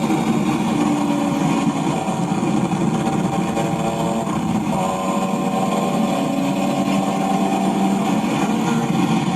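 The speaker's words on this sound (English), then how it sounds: "You can hear his exhaust." Steady engine drone from a car fitted with BMW M3 CSL parts, exhaust humming continuously at a constant level in the street without strong revving, no talk over it.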